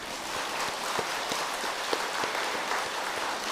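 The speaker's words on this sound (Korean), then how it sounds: "박수 한번 치세요." Audience clapping at a Buddhist dharma talk in a temple hall, a brief dense patter of many hands applauding together, steady and moderately close with no speech over it.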